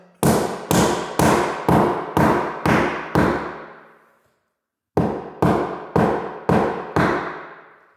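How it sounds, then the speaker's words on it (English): Hammer blows drive a glued wooden plug into a hole in a Victorian wooden floor: six sharp evenly spaced strikes, a pause, then five more, loud and close. "which can now be hammered into the hole with a bit of glue as well"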